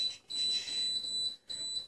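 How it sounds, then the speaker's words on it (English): An Instant Pot pressure cooker gives two short electronic beeps as its timer buttons are pressed, close and clear, separated by a brief gap. "I'm going to hit the button to select custom again. And I'm going to hit timer."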